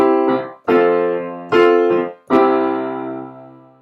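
Two chords, C then F, alternate over four strong strummed attacks, each ringing and fading before the next, close and loud with no voices.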